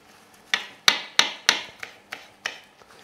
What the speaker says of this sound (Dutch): En tussentijd even die kruiden snijden.